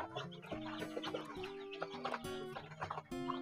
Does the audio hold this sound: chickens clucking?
yes